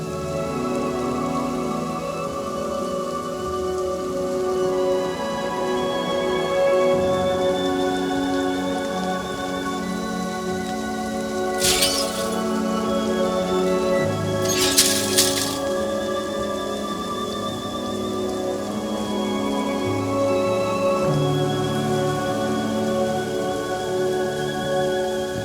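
Steady rainfall in Project Zomboid, a continuous hiss of drops on surfaces with two short sharp crackling bursts in the middle, under soft ambient tones and no talk.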